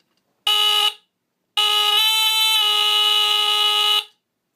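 A Fyrnetics F900D battery-powered smoke detector sounds two loud, piercing electronic alarm tones nearby, a short burst followed by a longer sustained blast, with silence between and after.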